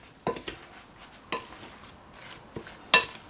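A mixture for doucana, a grated-dough dish served with saltfish, stirred in a bowl with a utensil, giving a few sharp clinks and scrapes spaced irregularly over a quiet background.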